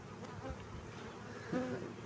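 Honeybees buzzing around their hive, a soft, continuous insect hum with one closer, slightly louder buzz passing near the end, and no talking.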